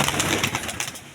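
A white-crested pigeon chick coos softly, close up, in a short run of soft, rounded murmuring notes with no talking.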